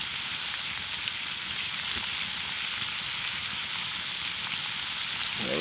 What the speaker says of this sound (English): Oh, that's frying, that's for sure.